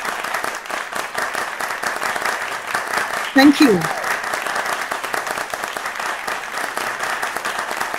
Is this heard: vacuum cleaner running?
no